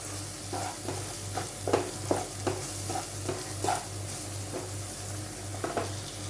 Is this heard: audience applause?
no